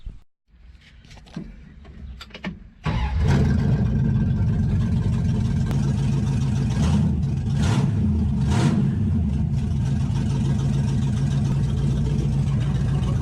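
A 1966 Dodge Dart GT with a 273 V8 rumbles loudly and steadily while driving around the block, engine revving and easing in waves after a quiet start and a few clunks.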